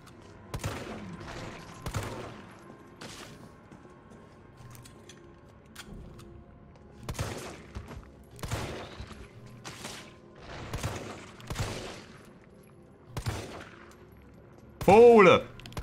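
Single handgun shots fired one at a time in Resident Evil 3, sharp reports spaced a second or two apart across the stretch, fairly close, with faint talk between them and a brief shout near the end.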